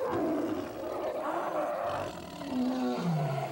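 Reconstructed roar of a Smilodon, the sabre-toothed cat, made to resemble a lion: a deep, loud, drawn-out roar with rising and falling growling tones, heard alone.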